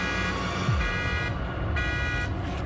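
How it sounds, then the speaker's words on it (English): Car alarm blaring in a steady, looping electronic wail, fairly faint and even throughout, with no voices over it. "She scares him off with her car alarm."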